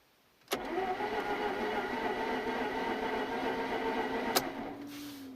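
A project car that has sat unused for over two years turns over on its starter motor with a fresh battery, a steady sluggish cranking that continues without catching, heard alone.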